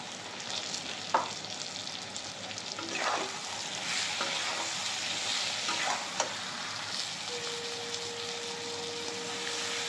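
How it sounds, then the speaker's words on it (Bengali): Green chillies sizzle and fry steadily in a hot pan, with occasional scraping stirs and light clatter over a constant frying hiss; no one speaks. "এখন অ্যাড করে দেবো এই যে কাঁচা লঙ্কা ফেলে রেখেছিলাম"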